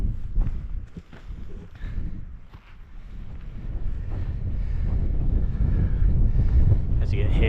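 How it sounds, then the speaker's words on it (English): Wind gusting across a lakeside campsite at Milarrochy Bay on Loch Lomond, a steady low rumble buffeting the microphone and growing louder toward the end, with faint talk underneath. "that's the wind picking up"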